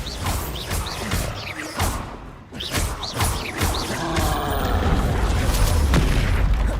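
Bombarda spell blasts in Hogwarts Legacy, loud booming impacts and crashes with whooshes amid dense combat noise, building into a sustained rumbling roar.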